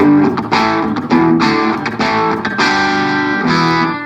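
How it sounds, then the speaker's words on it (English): Electric guitar with a humbucker pickup through an Avery Amps JABO 45 amp breaking up slightly, a thick overdriven tone, strummed chords ringing out with a few separate attacks over about four seconds. "the amp is breaking up just a hair, just a little bit with the humbucker"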